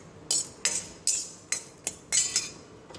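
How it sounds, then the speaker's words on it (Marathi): Dry dal is roasted without oil over low heat in a pan for methi chutney, with a spoon scraping and clinking against the metal in quick, irregular strokes about six or seven times, close and without talk. "आता हे चांगलं भाजून घेते लाल होईपर्यंत, आणि गॅस बारीक केलेला आहे."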